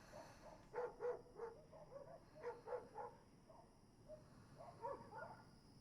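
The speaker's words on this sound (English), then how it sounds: "And the dog's barking" A dog barks in an anime scene set on a night under a red moon, a few clustered barks at moderate distance over a low background hum, with a later softer burst of barking.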